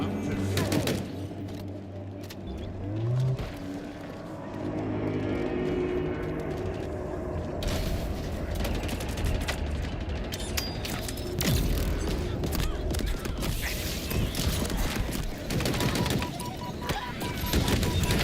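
Gunfire in a Halo video game, with repeated shots, mechanical clatter and booms running under a mix of game effects throughout, moderately loud with little clear speech.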